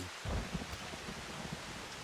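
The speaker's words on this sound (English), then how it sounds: "Raining, so not a good time." Rainfall in the video game Final Fantasy XIV Shadowbringers, a steady wash of rain with a low rumbling thud early on, continuous and moderately loud.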